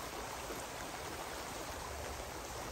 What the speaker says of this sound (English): A river in the rain.